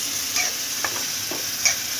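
A spoon stirs a rasmalai modak mixture in a pan over a low gas flame, giving soft scraping strokes and a few light taps over a gentle, constant sizzle, close and fairly quiet.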